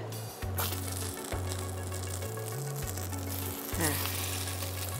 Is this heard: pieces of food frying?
yes